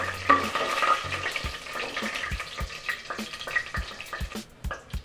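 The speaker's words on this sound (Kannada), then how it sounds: "ಇದಿಷ್ಟನ್ನು ಸೇರಿಸಿ ಈಗ ಸ್ವಲ್ಪ ಹೊತ್ತು ಎಣ್ಣೆ ಮತ್ತು ತುಪ್ಪದಲ್ಲಿ ಹುರ್ಕೋಬೇಕಾಗುತ್ತೆ." Whole spices, bay leaf and dried fenugreek leaves fry in oil and ghee in a pressure cooker for chicken biryani, with a soft steady sizzle broken by clinking stirring taps, close and without talk.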